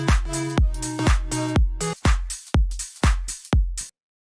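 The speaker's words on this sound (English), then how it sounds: "Drums are very simple. They sound like this." Simple deep house style electronic drum beat for a future house track: steady punchy kicks with short percussive hits, looping briefly and cutting off cleanly, with no voices over it.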